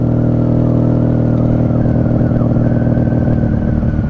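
A 1995 Honda Magna V45 VF750C custom, a chain-drive third-generation V4 cruiser, riding at night: a loud, continuous engine rumble with steady throbbing pulses close up, holding an even pace without pause.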